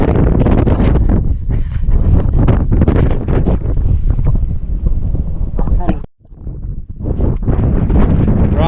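Strong wind roars and buffets the microphone almost nonstop on the exposed summit of Goatfell beside a sheer drop, dropping briefly near the end before gusting loud again.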